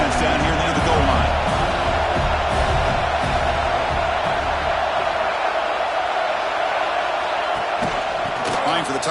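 A big stadium crowd roars in a steady, loud wash at a college football game involving Kentucky as the defense holds near the goal line, with a commentator talking over the noise.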